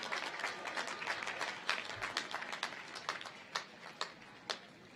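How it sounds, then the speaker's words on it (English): An audience at a spring 2023 commencement ceremony applauds, a dense, fairly distant patter of clapping that thins toward the end into a few scattered, separate claps. "Let's give them another round of applause."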